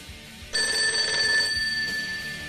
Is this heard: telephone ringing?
yes